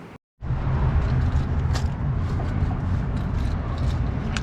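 A 2024 Ford F-150 pickup with a 5.0 Coyote V8 driving: after a brief silent gap, a steady low engine rumble and road drone hold at an even level from start to finish.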